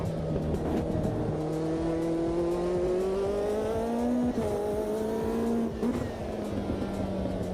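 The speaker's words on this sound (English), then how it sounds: "I must say this car sounds lovely." A race car in the Automobilista 2 racing game drones loudly and continuously, its engine pitch climbing steadily through the gears with brief dips at shifts, a close in-car sound with no voices.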